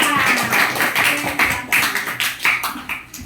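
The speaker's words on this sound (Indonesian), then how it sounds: "beri tepuk tangan untuk kelompok 3" Classroom students clapping for a group that just presented, a short burst of quick, uneven hand claps from a small group nearby, with a voice or two briefly mixed in.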